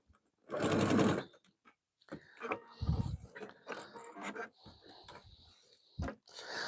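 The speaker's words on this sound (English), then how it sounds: "okay, so we've got that piece sewn now." A sewing machine runs in one loud, steady burst as it stitches a piece of fabric, followed by scattered handling noises and quieter mechanical clicks.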